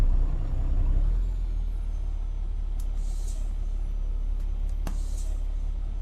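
Air brake on a Kenworth T800 dump truck in American Truck Simulator: a short, sharp hiss over a constant low engine rumble, followed by a second quick burst a couple of seconds later.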